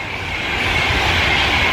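Two trains pass in opposite directions, a loud, broad rushing roar of wheels and cars that swells slightly and holds steady close by, with no voices.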